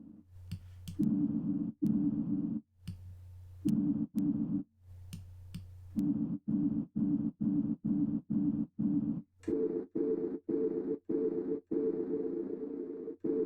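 Reverb tail of a sine wave tone in UVI Falcon, heard as a train of rhythmic pulsing tones repeating in short, evenly spaced bursts, with the pitch shifting upward midway and the pulses quickening.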